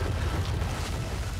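Deep, rumbling explosion from a Star Wars: Rogue One trailer as stormtroopers seize a village, a sustained low boom and roar filling the short stretch with no voices.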